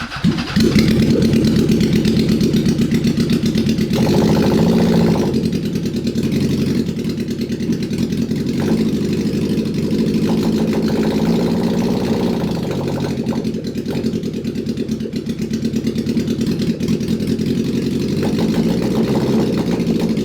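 A four-wheeler fitted with a swapped 750cc engine, abandoned before being bought, idles steadily after starting, a loud, close, even rumble running throughout with slight dips in level and no talking.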